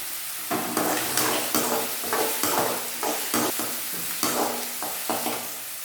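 Onions and green chillies fry in hot oil in a pan, a steady close sizzle broken by regular scraping strokes of a stirring spoon.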